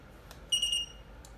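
An Apple battery tester gives a brief, faint high-pitched electronic beep, a short single tone amid a quiet background with a couple of soft clicks.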